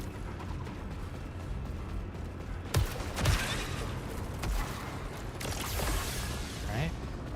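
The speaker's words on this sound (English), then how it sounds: "Marksman hand cannon." A marksman hand cannon fires in a shooter video game, two or three sharp booming shots with echoing tails over busy game ambience and a talking voice.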